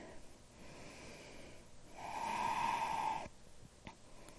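A single deep, slow breath in a yoga pose, drawn in and let out through the nose with a faint snoring rasp, quiet and close, surrounded by soft room hiss.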